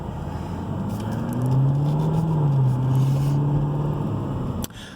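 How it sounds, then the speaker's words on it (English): Carbon-edition 2016 Cadillac CTS-V on a test drive, a rebuilt salvage car: steady engine drone from inside the cabin rising and easing as it accelerates, with a sharp click near the end. "All right, we'll take it up for a little test drive."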